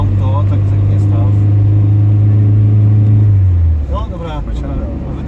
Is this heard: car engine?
yes